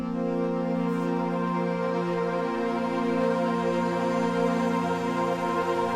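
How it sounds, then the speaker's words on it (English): Korg Modwave wavetable synthesizer preset built from custom wavetables, a sustained layered drone with steady harmonic tones running through filters and reverb, holding at even loudness with no voices. "This sound is created with wavetables that I created myself."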